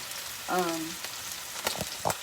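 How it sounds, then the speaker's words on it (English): Salted and peppered food sizzles in a hot pan with a steady, close broadband crackle and a few sharper pops near the end. "I just want to fry this up"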